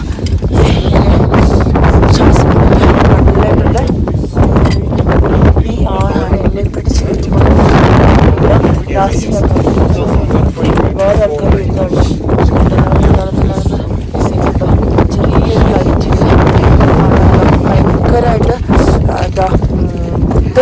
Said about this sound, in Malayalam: ഭയങ്കര തണുപ്പ് കാറ്റും ഭയങ്കര തണുപ്പും കാറ്റും ഒക്കെയാണ്